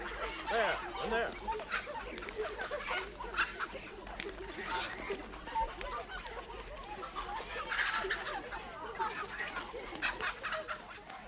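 Chickens clucking and squawking in a busy flock near a coop, continuous overlapping calls with voices talking over them throughout.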